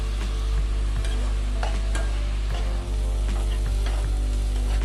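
Salted onion pieces fry and get stirred in a pan for hotel-style mutton curry, a steady loud sizzle broken by the scrape of a spoon, with no voices.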